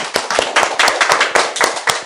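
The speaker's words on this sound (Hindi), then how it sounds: "and please let's clap" A small audience in a class claps after a poem recitation: a short burst of about a dozen distinct, close hand claps in an uneven rhythm, with no talking.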